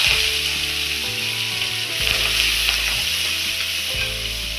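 Onions and curry leaves frying in hot oil with urad dal, chana dal and cumin give a steady, close sizzle and crackle, with occasional scrapes and clunks from stirring underneath.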